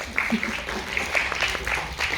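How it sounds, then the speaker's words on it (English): A group of business school students claps in a room, a brief scattered round of applause with a few sharper individual claps standing out. "I also say clap for yourself, please."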